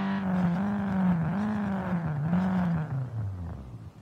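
Nissan S14 engine revving hard in the racing game Street Legal Racing Redline, a loud, close, steady drone whose pitch rises and dips in waves before sliding down at the end.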